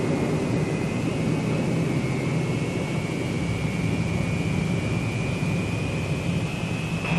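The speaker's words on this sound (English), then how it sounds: "Once you're lined up on the runway, all you need is a final check and power for the takeoff roll." B-47 jet bomber engines at full takeoff power on the runway, a steady loud roar with a high whine running throughout, no voices.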